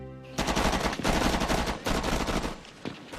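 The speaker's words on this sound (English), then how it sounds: "when you fire at them with machine guns" Sustained machine gun fire from Vietnam War combat, loud rapid bursts of shots rattling continuously with a brief break, close and harsh.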